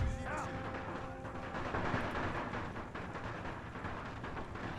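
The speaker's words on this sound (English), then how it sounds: "Alright, we're taking fire." Musket and cannon fire crackle and thud across a Napoleonic-era battlefield in Napoleon: Total War, a steady din of distant volleys and booms layered over battle ambience.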